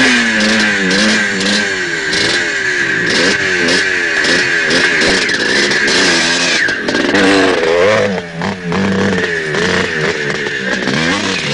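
A motorcycle engine revs repeatedly in loud, rising and falling bursts, close by, with a steady mechanical drone underneath and no talk.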